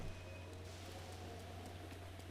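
Steady rain falls in the video game Zelda Breath of the Wild near Skull Lake, a continuous soft hiss with scattered drop ticks and no speech.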